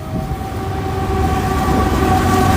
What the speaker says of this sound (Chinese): 今天晚上不知道能不能睡得着，那么大的火车声音